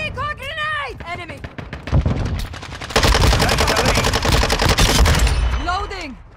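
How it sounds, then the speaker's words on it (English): Grenade blasts and rapid gunfire fill a Call of Duty: Modern Warfare II deathmatch, loud and dense bursts building into a sustained barrage over game callouts, with voices heard at the start and end. "Throwing grenade!"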